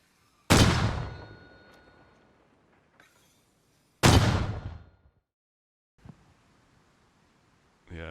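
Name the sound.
distant mortar fire thuds in a video game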